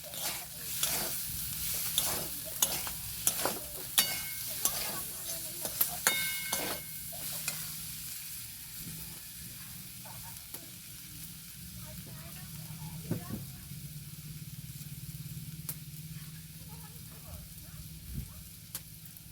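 Drumstick, potato and poppy seed curry being stirred in a pan, with repeated scraping knocks of a spoon over a soft continuous sizzle, busier at first and then settling into a quieter simmer.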